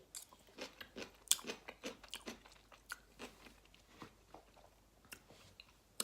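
Someone chewing kimchi and chewy Korean rice cakes close to the mic, with wet, crunchy bites and squishy mastication repeating in a quick, irregular rhythm and no talking over it.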